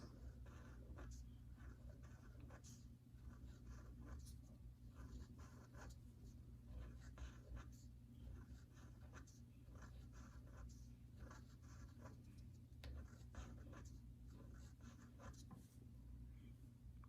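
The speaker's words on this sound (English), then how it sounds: "so I'm gonna draw hearts." Hearts being drawn on paper with a pen or pencil: soft, close scratching strokes in short repeated bursts over a steady low background hum, faint and with no speech.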